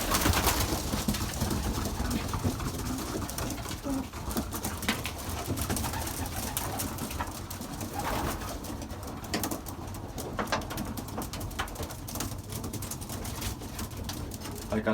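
Racing pigeons coo steadily in a loft, with soft overlapping calls and occasional wing flutters over a continuous, fairly close background of bird noise.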